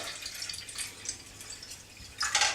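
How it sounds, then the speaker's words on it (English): Water is poured into a film developing tank as faint, scattered trickles and drips, rising to a brief louder splash of pouring near the end, all close and quiet with no talking. "So I'm putting 300ml of water in."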